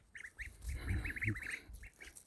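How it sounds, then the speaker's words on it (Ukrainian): Several wild geese honk in quick, overlapping calls, a small noisy flock at moderate distance with short pauses between bursts. "Таке стадо диких гусей."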